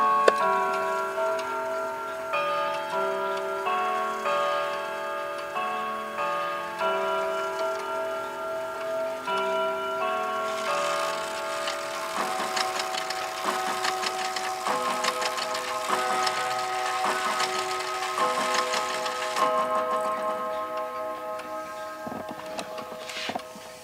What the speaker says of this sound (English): This has the Winchester chimes in it.